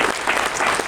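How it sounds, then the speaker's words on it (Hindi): An audience at a Mumbai political party convention claps loudly and densely, a brief burst of crowd applause filling the moment. "2 लाख झंडा का जोरदार ताली बजा करके स्वागत करिए।"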